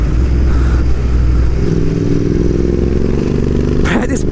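A Royal Enfield Interceptor 650 motorcycle rumbles along on a spring ride, its steady low engine drone and road noise running loud and continuous, with a brief clattering burst near the end.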